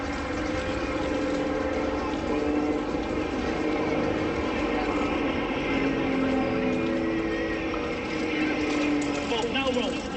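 Aerobatic propeller aircraft performing a wing over at a seaside air show at Clacton-on-Sea, Essex, its engine a steady continuous drone with a shifting pitch, fairly loud and sustained throughout.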